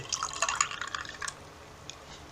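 Ice and mineral water poured into a cup of iced tea, a short burst of clinking, splashing trickles close by that quickly fades to faint drips.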